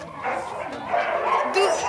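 A small dog at an animal shelter yips and barks in short excited bursts close by, with people talking over it.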